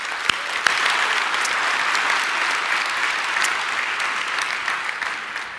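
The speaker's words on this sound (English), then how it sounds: "So let's give them a big round of applause." A large tech conference audience gives a sustained round of applause, an even, broad roar of clapping holding steady throughout with a few sharper individual claps poking out near the start.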